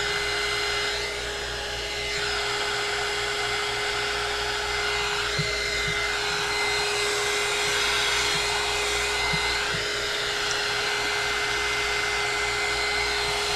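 A handheld heat tool blows over wet nail polish in a leopard swirl design, making a loud, steady whirring rush of air that runs unbroken throughout, with no talk.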